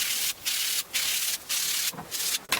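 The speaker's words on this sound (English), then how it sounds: "I'll just hand sand that." Hand sanding the edge of a plate: five close back-and-forth strokes of abrasive rubbing, each a loud hissing sweep separated by short gaps, with no voices.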